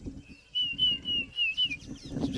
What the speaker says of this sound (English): you can hear in the background the Diederik's cuckoo going